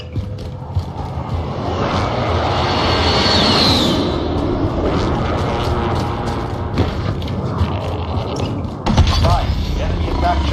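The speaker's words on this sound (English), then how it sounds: "Enemy attack chopper incoming." An enemy attack helicopter from a video game passes overhead, its steady rotor drone loud and continuous, swelling a little in the middle, with other game sounds and faint speech mixed in.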